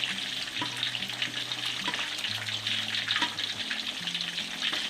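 Continuous crackling sizzle of gourami fish frying in hot oil, with sharp little pops and spatters scattered throughout, close up.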